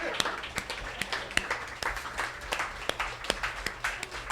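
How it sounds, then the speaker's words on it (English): An audience at a storytelling event applauds with sparse, distinct claps rather than a dense roar, a steady scatter of handclaps with some talk mixed in. "Just to applaud him."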